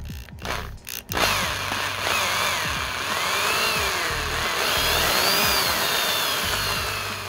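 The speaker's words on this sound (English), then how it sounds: "drill this bad boy." Power drill backing screws out of a diecast Mazda 787B model car, a close whirring drill sound with rising and falling pitch that runs continuously after a few brief handling clicks.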